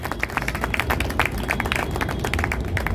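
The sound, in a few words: audience applause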